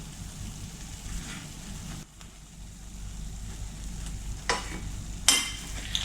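Cheese flatbreads fry in oil in a pan with a steady, close sizzle, interrupted by a brief dip and a couple of sharp clattering knocks near the end.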